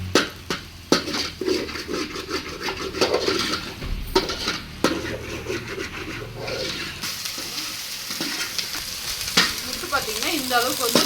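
Egg rice mixture with turmeric powder frying in a pan, road-side shop style, with loud sizzling and repeated scraping and clanking of a spatula against the pan throughout.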